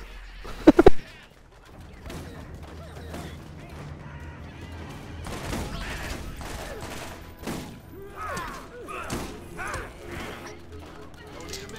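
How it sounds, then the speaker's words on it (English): Borderlands video game combat: a loud, sharp volley of gunfire bursts near the start, followed by scattered shots and blasts under a player's ongoing talk. "Explosions."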